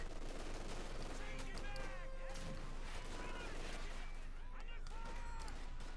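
Artillery bombarding an MG42 position in Company of Heroes 2, dense battle noise of gunfire and blasts with whistling shells, faint and steady, partly under talk.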